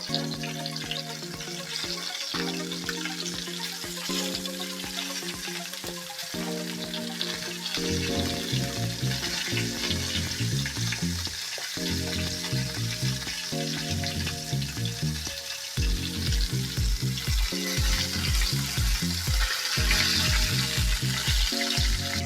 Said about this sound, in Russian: можно, конечно, ее рыбу закрыть крышкой, чтобы она пожарилась